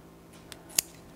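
A single crisp scissor snip trims paper for a handmade slider card, quiet and close, with a fainter cut just before it in an otherwise still room.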